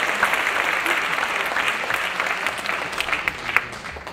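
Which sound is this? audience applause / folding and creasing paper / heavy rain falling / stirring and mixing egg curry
audience applause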